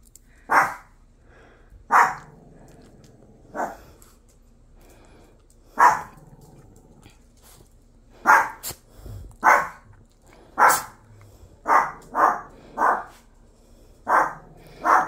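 A dog barks in short, sharp bursts, about a dozen fairly close barks spaced irregularly over a quiet indoor background.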